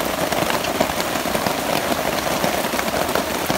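Steady rain falls at a campsite, a loud dense patter of drops on surfaces continuing without pause, close and even, with no talking.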